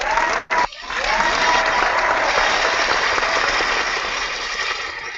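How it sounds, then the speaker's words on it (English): Audience applause from a live crowd: dense, steady clapping that swells after a brief dip and holds at a strong level for several seconds, no one talking over it. "I'm going to give you another round of applause"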